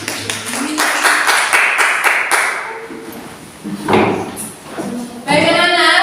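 Classroom of students clapping briefly for a group returning to their seats, a short burst of close, loud claps that fades into background chatter, thumps and children's voices.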